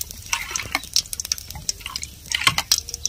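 Carom seeds (ajwain) fry in hot oil in a kadhai, giving a quiet, steady crackle of small pops and sputters with no talking.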